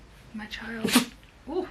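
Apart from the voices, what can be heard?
sneeze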